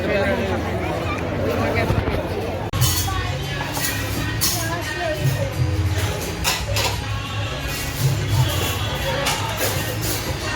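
Dense crowd babble fills busy Mall Road in Manali, a steady wash of many overlapping voices close around with general street bustle, continuing without a break the whole time.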